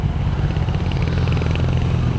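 Honda CB650R E-Clutch motorcycle pulling uphill in third gear, a steady, loud low engine drone with road and wind noise throughout, no voices.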